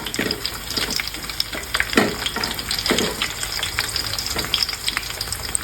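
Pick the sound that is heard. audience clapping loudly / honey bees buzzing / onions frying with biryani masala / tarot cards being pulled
onions frying with biryani masala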